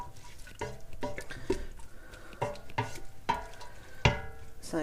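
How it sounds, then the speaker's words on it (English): Chopped cucumber is stirred into a relish mixture in a bowl, giving a series of wet, squelching scrapes in an uneven rhythm, close and fairly distinct, with a sharper knock near the end. "there goes the cucumber in there. Mix it round"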